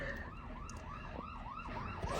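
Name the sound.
fire engine siren switching to yelp mode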